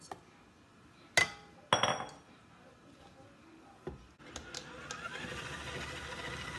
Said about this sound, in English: So the butter, all the sugar goes in because we're going to start creaming them now.